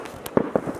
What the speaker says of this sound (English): We have fireworks in the background, as you guys can hear.